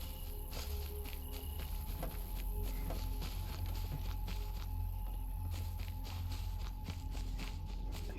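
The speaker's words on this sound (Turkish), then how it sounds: "Ayak sesleri duyuyorum." Repeated soft footsteps pad along in a video game over a steady low background hum, with faint ticking and chirping sounds scattered throughout.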